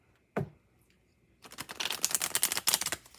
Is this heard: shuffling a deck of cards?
yes